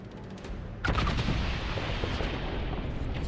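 A sudden loud boom erupts partway through an explosion in the video game Dragon Age Inquisition, followed by a rolling rumble and scattered crackling blasts that linger as the explosion dies away.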